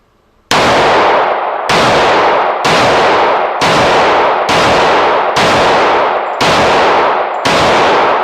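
A pistol firing 200-grain semi-wadcutter bullets over 231 powder, eight sharp, loud shots in steady succession about 0.7 seconds apart, each with a ringing decay, outdoors with no talking.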